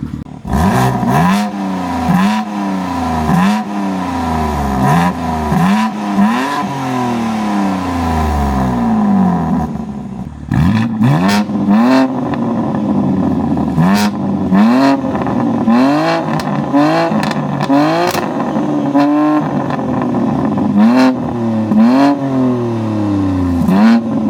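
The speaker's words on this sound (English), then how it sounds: "Let me quickly open the valves as well, and let's see how the idle sounds." A BMW G82 M4 with a loud aftermarket exhaust and its valves open idles throughout, giving a deep, steady burbling drone with small blips of revving. Close and loud, with no talking.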